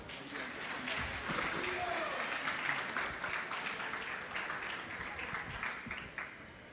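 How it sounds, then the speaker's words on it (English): An audience applauds a guest, Guru Das Prabhu, at a Sunday program in Toronto, with steady clapping at moderate volume, mixed with crowd murmur and some voices. "A huge round of applause."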